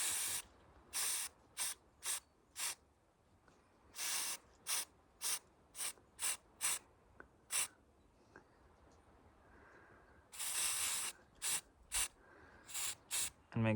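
Aerosol spray hisses onto a wood handle under restoration in a string of short, sharp bursts, each about half a second, close and fairly loud, with a couple of longer sprays between them.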